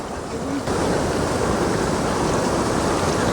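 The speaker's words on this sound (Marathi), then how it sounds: "इकडे धार जास्त आहे." A strong river current runs past a fishing spot, where fish are caught by diving among rocks. It makes a loud, steady rushing roar that stays constant throughout, with no talk.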